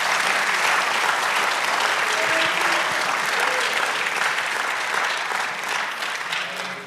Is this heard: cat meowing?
no